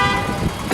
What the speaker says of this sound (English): That's just a guy in a ridiculously weak car with about 20 men in the back trying to get up a very steep hill